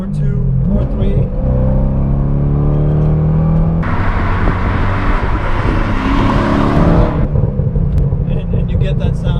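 Chevrolet C6 Corvette V8 engine revs hard after a downshift, a loud deep roar that climbs and then holds at a higher pitch, with someone talking over it.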